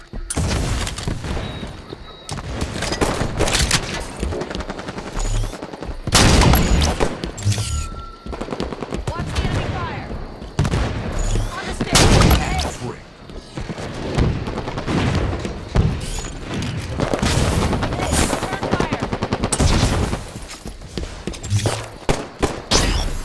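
Loud bursts of automatic weapon fire and heavy booms in a Halo 5 multiplayer match, coming in dense volleys with short gaps, close and dominant throughout.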